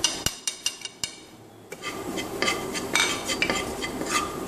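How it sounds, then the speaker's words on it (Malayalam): Roasted rice flakes being stirred with dry ginger and cardamom powder in a pan, sharp spoon knocks on metal at first, then a continuous dry scraping and rustling stir, close and moderately loud with no talking. "ഈ ചുക്കുപൊടിയും ഏലക്കപ്പൊടിയും ഇതിലൊന്ന് ജസ്റ്റ് ഒന്ന് വറുത്ത് എടുത്തിട്ടുണ്ട്"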